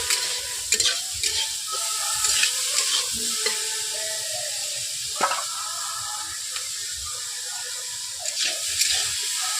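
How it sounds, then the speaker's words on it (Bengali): Flat bean vegetables being fried with salt in a pan over a wood-fired clay stove, with a soft continuous sizzle and occasional scraping stirs and clinks close by. "সবজিগুলোকে আমি নুন দিয়ে ভেজে নিচ্ছি বন্ধুরা"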